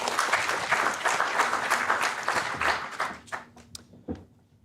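An audience at an investment arbitration conference session applauds a speaker; dense clapping fills the room for about three seconds, then thins into a few scattered claps and fades out.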